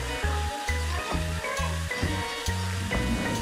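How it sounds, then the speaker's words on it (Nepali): Masala being stirred into browned onions in a hot pan while preparing ghongi, a steady sizzle with rhythmic scraping strokes of the spoon repeating several times, close and clear. "मसला एड गरेर त्यसलाई राम्रोसँग चलाएँ"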